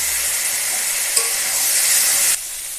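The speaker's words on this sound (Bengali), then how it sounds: "আমার এর মধ্যে একটু জিরে আর ধনে বেটে রেখেছিলাম, ভেজে দিয়ে দিলাম" Ground cumin and coriander paste frying with vegetables in a pan, a steady close hiss and sizzle with light stirring scrapes, dropping to a quieter sizzle near the end.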